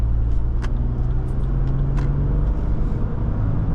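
Steady low road and engine drone inside a 2024 Lexus GX550 on a test drive, smooth and continuous with tire hum, a few faint clicks above it, no talking.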